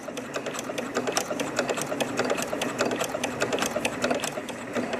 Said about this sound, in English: so I'm just restitching it, staying as close as I can to that red hand stitching I made.